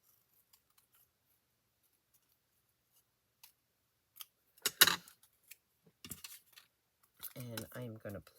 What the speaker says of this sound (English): So I'm just going to cut this out again real quick.